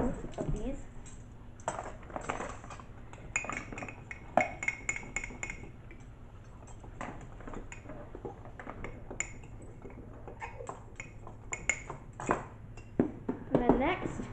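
A spoon stirs mug cake batter in a mug, faint scattered clinks and taps of metal against ceramic, quiet and close, with a person talking over it.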